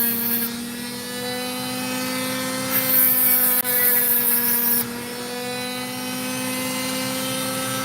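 A saw slicing through an opal gives a steady, close whine with a strong held pitch, getting louder partway through before settling back.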